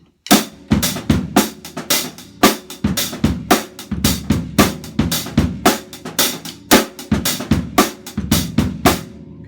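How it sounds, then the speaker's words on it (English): A drum kit plays a linear African groove with bass drum variations, a steady, punchy pattern of close, distinct kick and drum hits interlocking in a repeating rhythm, with no talking. "the bass drum can do some variations if you like"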